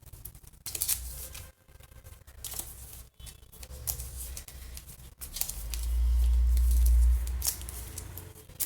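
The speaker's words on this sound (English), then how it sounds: "So we're going to give them a shuffle." Location cards for a tabletop investigator card game are shuffled by hand, giving quiet, papery riffling and soft clicking bursts over a faint low hum.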